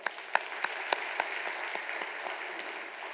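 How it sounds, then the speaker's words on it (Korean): Church congregation clapping together in encouragement for a women's fellowship group during a service, a steady dense patter of many hands with a few sharper claps standing out, moderately distant. "격려로 박수할까요?"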